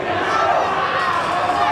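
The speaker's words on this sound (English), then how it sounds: "You hear the crowd, Dan. They're chanting for the Brazilian Destroyer." A wrestling crowd at an indie show chants loudly and steadily for the Brazilian Destroyer, a dense roar of massed voices filling the whole moment.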